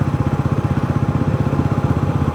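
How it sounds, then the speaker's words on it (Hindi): A Bajaj Pulsar NS400Z, a 400 cc motorcycle, rolls in sixth gear at about 32 km/h with no throttle, its engine giving a steady, close, low rhythmic thrum with even pulsing throughout. "बाइक बिना थ्रोटल के सिक्स्थ गियर में चल रही है 32 किलोमीटर पर की स्पीड पे"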